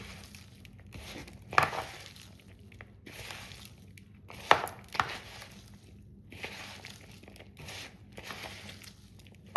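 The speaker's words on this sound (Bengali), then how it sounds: "দেখতে পাচ্ছ চটকানোর সঙ্গে সঙ্গেই বাঁধাকপি নরম হয়ে আসছে।" Salted cabbage being mashed and squeezed by hand, with soft wet squishes and crinkly crunches coming in uneven bursts, close up with no talking.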